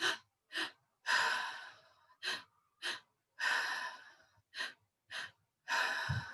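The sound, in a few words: deep breathing during a breathwork exercise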